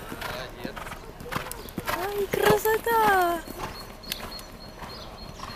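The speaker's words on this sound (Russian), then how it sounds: "здесь вот катаются лошадки красивые такие" Hooves clip-clop at an unhurried walking pace, close by, while someone speaks briefly over them.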